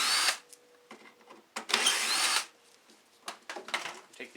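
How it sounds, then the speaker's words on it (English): A power drill fitted with a socket whirs in several short bursts, spinning out bolts on the paddles of a Craftsman MTD snow blower, loud and close with quiet gaps between runs. "I got socket hooked up on a drill"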